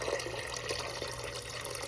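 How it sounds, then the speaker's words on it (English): Filtered water pours into a pot of dried chickpeas, a steady splashing trickle with small bubbling pulses throughout, moderately loud and with no one speaking. "Pour you some filtered water in about 2 inches above the peas."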